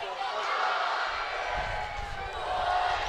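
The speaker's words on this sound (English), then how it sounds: "crowd's pretty loud too. We can hear a lot." A crowd at a high school varsity football game cheers, a broad, continuous roar filling the stands, with commentators talking over it.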